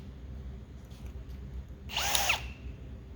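A power drill bores out a spot weld in sheet metal with worn bits, making one short, fairly loud grinding burst of about half a second that stands alone over faint background hum.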